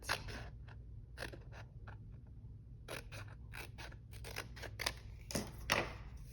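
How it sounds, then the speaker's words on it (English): Scissors snip around a butterfly picture cut from paper for junk journaling, producing close, crisp clusters of cutting snips and rustling paper in an irregular rhythm with short pauses, fairly quiet and with no speech. "We'll just cut around it."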